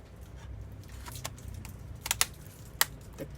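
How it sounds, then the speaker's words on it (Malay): A new keyboard is pressed into place on a Lenovo G40-70 laptop, producing scattered plastic clicks and taps, several sharp and close, over a quiet background. "Tekan di sekeliling keyboard."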